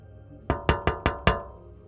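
Five evenly spaced knocks on a hollow-sounding sealed door, crisp and close, each with a short resonant ring, in an otherwise quiet space.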